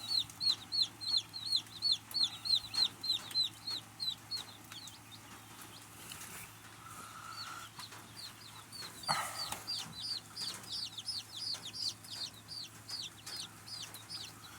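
Backyard flock of chickens, including a black Cochin hen, clucking in a rapid, repeated rhythm through most of the stretch, with soft squawks in the middle, moderately close over a faint steady hum.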